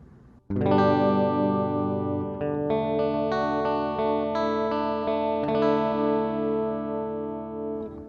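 An electric guitar runs through a BOSS GT-1000 with amp simulation switched off, giving a clean, thin tone. It plays a few sustained notes and chords that ring out clearly on their own, without talk.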